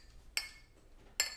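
Two bright clinks of beer glasses touching in a toast over IPA, spaced about a second apart, close and crisp against a quiet room.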